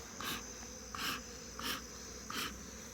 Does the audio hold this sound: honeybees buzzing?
yes